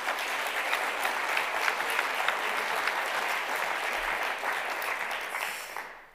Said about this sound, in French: On peut les applaudir parce qu'on les embrasse très fort.